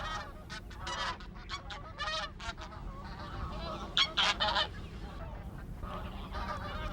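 A flock of migratory geese honks in flight over the Nakdong River delta, a dense run of overlapping calls coming in bursts, fairly close and clear, with no voices.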